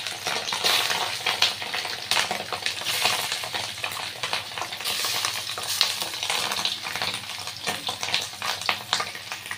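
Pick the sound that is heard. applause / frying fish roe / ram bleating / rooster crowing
frying fish roe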